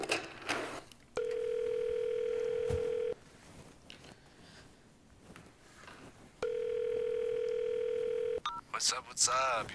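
Two long steady telephone tones, each lasting about two seconds and separated by a quiet gap, sound as a call rings through before voicemail picks up, with brief voice fragments at the start and end.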